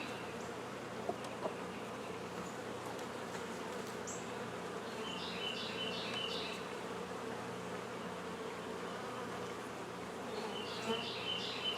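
Honey bees buzz steadily around a hive with a newly hatched queen, a continuous close hum with a few brief higher whines from individual bees passing near.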